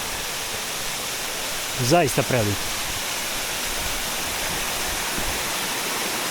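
A lesser-known waterfall on Vlašić, falling in three cascades, gives off a steady, even rush of water, while a voice speaks briefly near the middle.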